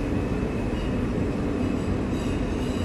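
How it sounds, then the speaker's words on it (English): A New York subway train ride gives a steady, loud, close rumble of wheels on track with dense low roar and faint rattling, and no voices. "We survived our first subway journey."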